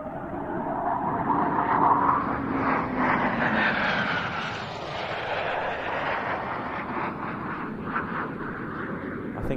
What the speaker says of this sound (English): Typhoon arriving in the overhead as well.